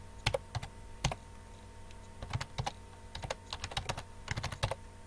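Keys clatter on a computer keyboard as a file name is typed, in quick irregular bursts of close, crisp keystrokes separated by short pauses.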